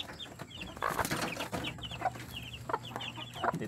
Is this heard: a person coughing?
no